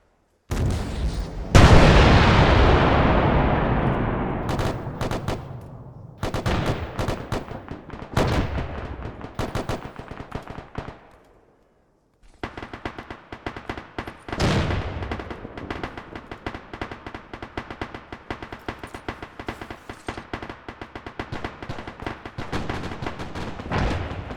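Heavy artillery booms in the video game Arma 3, one loud blast followed by a long rumbling decay, then repeated gunfire and further shots in a dense battle soundscape.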